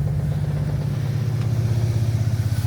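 A Japanese Daihatsu Mira van that arrived running poorly, smelling of fuel, with oily plug boots and a troubled second cylinder, sounds close and loud. Its small engine gives a steady pulsing throb that rises slightly as it revs.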